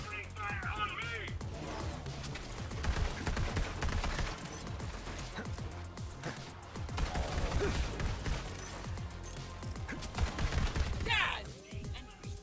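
Rapid bursts of gunfire and clattering mechanical weapon noises in the Borderlands Maliwan Takedown on Mayhem 4, dense and repeated, with voices calling out over the shooting.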